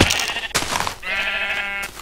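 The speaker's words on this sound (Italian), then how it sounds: "Pecora marrone in cima a un albero." A brown sheep bleating in Minecraft, two nasal, wavering bleats close up, the second longer and steadier.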